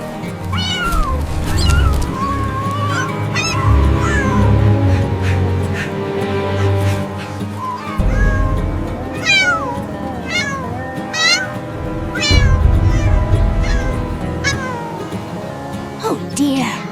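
Cartoon cat stuck high in a tall tree meows repeatedly, plaintive rising and falling cries over a busy animated background with low rumbling sounds.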